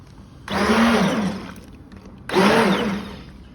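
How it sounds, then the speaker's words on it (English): Two separate bursts of an immersion blender churn through chunky potato, leek and kale soup, each a loud whirring buzz lasting about a second with a short quiet gap between. "Using an immersion blender to slightly blend the soup, we will leave some potato chunks,"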